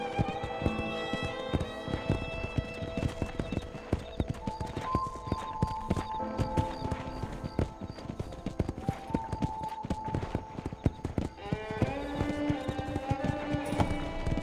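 A horse galloping in the video game Red Dead Redemption, rapid rhythmic hoofbeats running continuously and close for the whole stretch, with game music tones sustained underneath.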